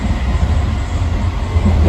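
Riding aboard the JFK AirTrain toward Jamaica, a steady loud rumble of the car rolling on the guideway fills the interior with continuous low noise.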